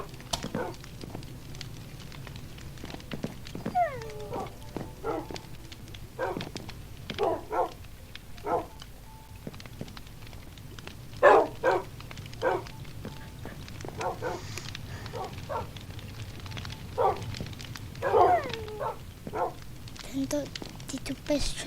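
Dogs barking in Minecraft: a run of short, sharp, blocky barks and yips at irregular intervals, some near and some farther off, over a low steady background.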